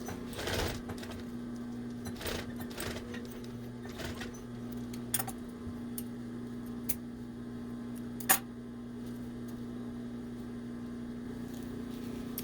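Sewing machine stitching elastic onto fabric, a steady mechanical hum with a faint stitching rhythm, broken by a few brief clicks and bumps and one sharper knock.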